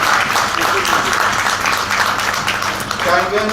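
An audience at a talk on Kangen water claps together in steady, dense applause that fills the whole stretch, with a voice faintly audible underneath.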